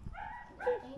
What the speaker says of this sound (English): That's Kenzie's puppy